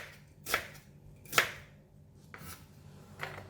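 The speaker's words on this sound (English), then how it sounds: "I'm going to cut it thin slices like that" Three or four separate crisp cuts of a knife slicing food thinly onto a board, spaced about a second apart, close and fairly quiet.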